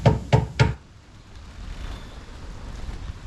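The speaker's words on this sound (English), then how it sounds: "Knock, knock, knock." Three firm knocks on a door in the porter scene of Shakespeare's Macbeth, evenly spaced and close, followed by faint windy room noise.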